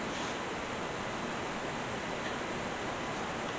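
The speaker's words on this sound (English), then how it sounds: "let's pour in the water." Steady, hissing rush of boiling water being poured, continuous and fairly close, with no voices.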